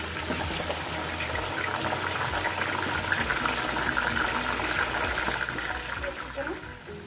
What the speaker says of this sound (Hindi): मैंने बीफ का गोश्त लिया है, यहाँ पे ये ऐड कर रही हूँ मैं।